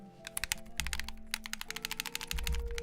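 Xbox 360 controller buttons clicked rapidly right against a microphone, a dense run of sharp plastic clicks over a low steady tone.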